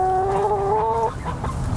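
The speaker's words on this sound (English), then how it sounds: "Inside we've got all the chickens." Chickens inside a winter coop: one bird gives a sustained, tonal call lasting about a second, followed by a few short clucks over low coop background noise.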